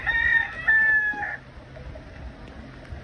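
A nearby rooster, one of Gary's chickens, lets out a single loud crow lasting over a second, then quieter clucking and outdoor background noise follow.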